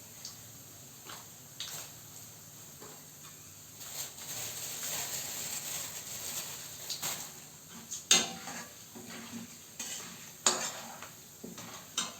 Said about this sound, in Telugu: వేయించుకుంటున్నాను